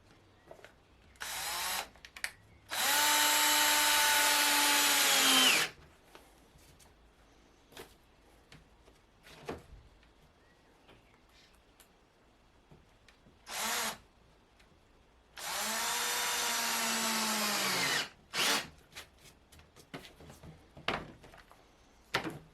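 A power drill drives small screws into a Eurorack case frame: two long, loud, whining runs of about three seconds each, plus a few brief blips and light handling knocks, with no speech.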